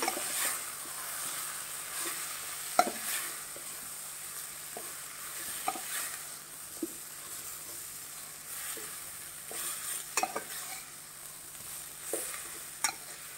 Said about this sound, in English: Once you add the turmeric powder, mix it again.